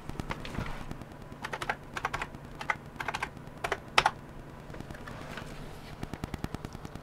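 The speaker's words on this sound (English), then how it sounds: "So let me put in my password here." Keys on a computer keyboard are tapped in quick, irregular clusters to enter a Windows login password, sharp clicks close up over a faint steady hum, no one speaking.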